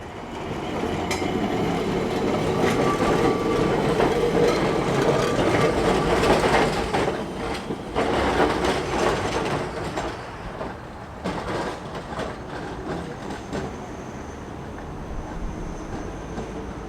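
Te Huia passenger train running on rails, heard from on board: a steady loud rumble of wheels and carriage with rattling, shifting in level, and some brief squeal and clatter, no talking.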